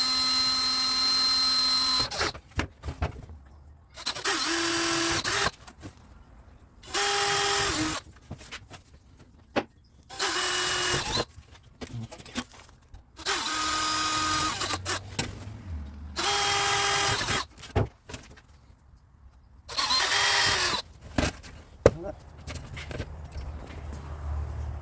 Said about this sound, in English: I'm going to go ahead and get these drilled out